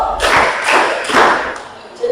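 A group of students claps three times together in a counting clap game, giving three loud, evenly spaced bursts close by, followed by a brief quiet.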